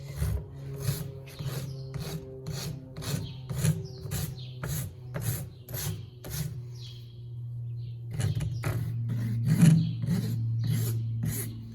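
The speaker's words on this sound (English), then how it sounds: "there's a sharper part on the rasp, and then this is finer to make it look a lot nicer" A rasp files a horse's hoof in repeated rhythmic strokes, each a harsh scraping rasp about half a second apart, close and loud, pausing briefly before the strokes resume.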